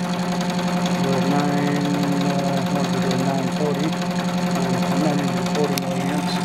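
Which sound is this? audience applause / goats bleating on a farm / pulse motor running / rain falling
pulse motor running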